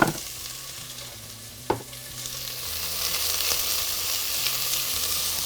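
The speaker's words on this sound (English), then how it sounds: "Nice sizzle." Food hits hot shimmering oil in a pan while cooking fesenjan, a steady close sizzle that builds and holds, with a single clink of a utensil.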